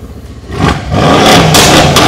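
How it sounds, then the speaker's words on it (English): A BTuned-tuned Mercedes-AMG C63 engine revs up close and loud, rising sharply from idle into a sustained, roaring high-rev blast that holds for over a second. "Give it a rev for us, Jordan."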